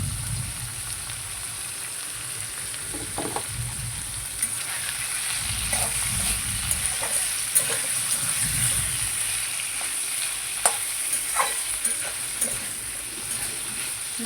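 Chicken frying with turmeric powder, Kashmiri chilli and salt for a home-style Bengali chicken curry with potatoes, a continuous soft sizzle with occasional scraping stirs, while a voice talks over it.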